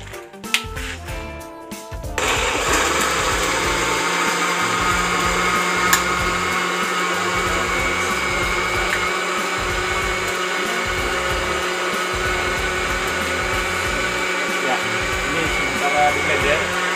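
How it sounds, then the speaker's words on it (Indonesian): A blender whirs continuously, mixing eggshells and other ingredients for a homemade plant fertilizer booster. A few clicks and knocks come first, then the loud, close, steady motor roar runs to the end. "Di blender, jadi supaya semua bahan ini dipastikan adonannya tercampur rata"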